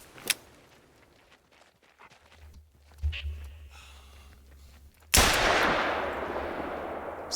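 A single sharp .243 rifle shot fired at a deer in theHunter: Call of the Wild, a loud close crack with a long echoing tail after a quiet stretch of faint footsteps and rustling.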